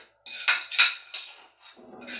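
Mashed black beans scraped with a fork from one dish into a bowl for air fryer black bean burgers, heard as a few close, bright clinks and scrapes of metal on dishware, with a softer, duller scraping toward the end.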